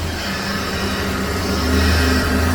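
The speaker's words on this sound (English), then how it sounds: "That's the idle." A Mazda RX8 rotary engine idles steadily, a loud, even, continuous hum with a low droning pulse and no change in pitch over the short span, with no one talking.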